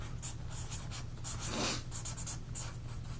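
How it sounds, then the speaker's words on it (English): Pen or marker scratching on paper in a quiet room, a series of short, soft strokes in a steady rhythm with one brief louder stroke midway, writing down figures for a heart rate calculation. "And I like to write it down"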